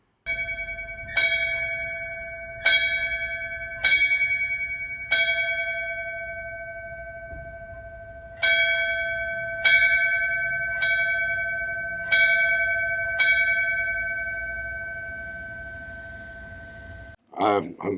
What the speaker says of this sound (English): When a firefighter dies in the line of duty, he's memorialized in every firehouse in New York City by the bells in the firehouse ringing.